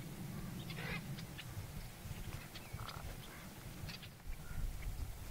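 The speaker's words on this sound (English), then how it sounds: "Red-winged blackbirds" Red-winged blackbirds call in short, scattered bursts over a steady low rumble of wind or traffic in open Central California wetland country, the calls moderately distant.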